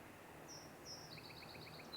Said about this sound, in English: I hear that, I hear something, a little chirp.